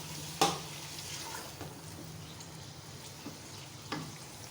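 Garlic-ginger paste and julienned green chillies frying gently in oil for Peshawari namkeen gosht, a faint steady sizzle with a few soft clinks of a utensil against the pan.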